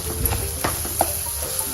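Banana pieces sauté in ghee in a pan over low to medium heat with a soft, steady sizzle. Faint stirring clicks and scrapes break through now and then.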